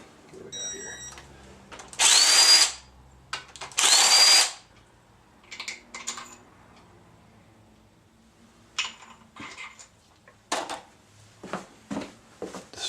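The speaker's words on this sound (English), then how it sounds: "let's take this main cap off here" Removing a main bearing cap from a high-mileage Chevy 5.3 LM7 V8 with a power tool: two loud whirring bursts of a drill or impact driver, then scattered metallic clinks and taps, with some speech.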